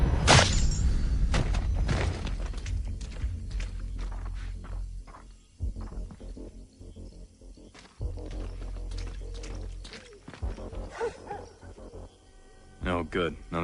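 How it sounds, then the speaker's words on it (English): A guard dog barking in the stealth game Splinter Cell Blacklist at a private estate in Ciudad del Este, Paraguay: several loud, sharp barks and whines up close, mixed with game sounds and talk. "What the hell are you barking about?"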